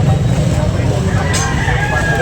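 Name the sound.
rooster at a chicken market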